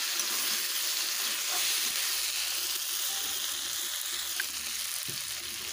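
Potato and cauliflower frying in a pan for a paneer dish, giving a steady, close sizzling hiss throughout with no talking.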